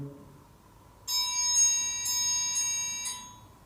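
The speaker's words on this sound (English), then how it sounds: "Them bells are ringing." A bright bell rings in a quick repeated series of about five strikes, clear and ringing, after a quiet start.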